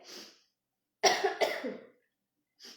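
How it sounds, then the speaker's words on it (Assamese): A woman coughs once sharply and then coughs again in a short harsh fit, close and fairly loud, with faint breathy sounds before and after; no speech. "কাহটো আহিছে"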